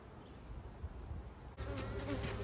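Honey bees buzz continuously around an open beehive during an inspection, a soft, dense hum that grows louder and closer midway through.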